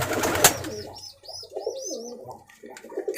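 Rajshahi Geribaj pigeons coo in repeated, bubbling phrases after a brief rustling clatter at the start, the calls close and clear with short gaps between them.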